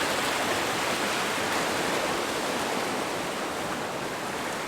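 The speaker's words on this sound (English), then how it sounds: "The waves are so powerful tonight." Powerful sea waves rolling onto the East Coast shore at night soon after high tide, a dense continuous roar of surf, loud and close, with no talk.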